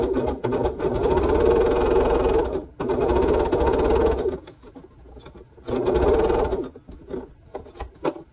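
A sewing machine stitches a quilt block seam in two long steady runs, loud and close, separated by brief pauses with softer handling noise.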